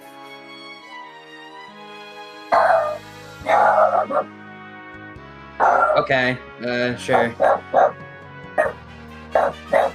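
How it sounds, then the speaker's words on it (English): A dog barks repeatedly, close and loud, in sharp bursts with a few whiny yips, while someone speaks briefly over it. "That's my dog."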